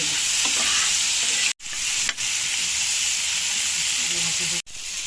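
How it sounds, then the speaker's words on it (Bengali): Cauliflower pieces fry in hot oil in a home kitchen pan, a loud continuous sizzle with occasional stirring scrapes, broken by two brief silent gaps. "ফুলকপি গলে যায় এই জন্য আমি একটু ভেজে নিচ্ছি"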